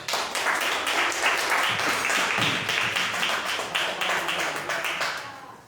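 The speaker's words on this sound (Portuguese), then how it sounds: "As palmas do Senhor." Church congregation applauding together in worship, a dense wash of many hands clapping steadily and loudly, fading toward the end.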